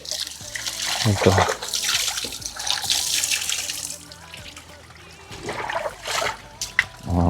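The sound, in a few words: running tap water while bathing children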